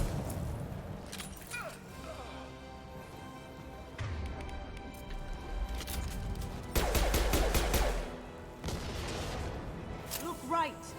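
Gunfire crackles through a Mass Effect 2 boss battle in a video game, bursts of shots rising over game music and effects, loudest in a dense volley near the middle, while a player talks intermittently.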